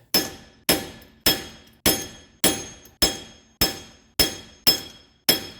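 Steady hammer blows drive out a rear wheel hub bearing on a 2012 Subaru Impreza: ten sharp metallic strikes about half a second apart, each ringing briefly, loud and close with no talking.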